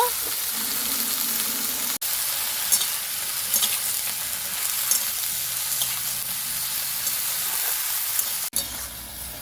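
Sliced ridge gourd and bitter gourd fry lightly in a pan, a steady close sizzle with intermittent spatula scrapes and stirring, cut by two brief breaks.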